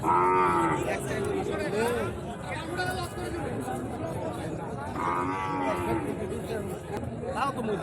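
Sahiwal cattle at a border-area cattle market. Two long, drawn-out moos, one at the start and one midway, rise over a constant background of crowd chatter and market bustle.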